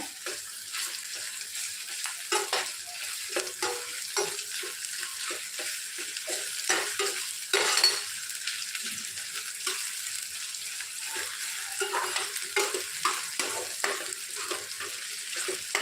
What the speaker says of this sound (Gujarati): આપણે ઝીણા ચોપ કરેલા બટેટા ઉમેરી દઈશું